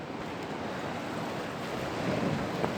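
Waves of the Arabian Sea wash steadily at Sindhudurg Fort, heard as a continuous broadband surf rush with some wind, growing slightly louder toward the end.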